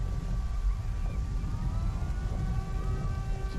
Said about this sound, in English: Just the air siren.